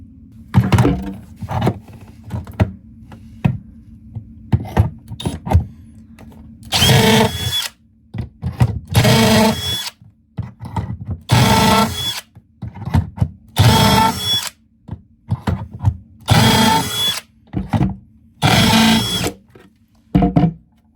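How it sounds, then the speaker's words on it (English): A power drill bores shelf pin holes through a jig in a series of short, loud whirring bursts separated by pauses and quieter handling noises. "we're ready to drill the left side"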